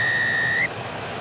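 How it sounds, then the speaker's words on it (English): A referee's whistle at a 2024 England v Ireland rugby match, blown to start the second half, sounds as a steady, sustained high tone over loud crowd noise before cutting off abruptly. "So Nika Amashukeli blows the whistle, and George Ford gets this second half underway"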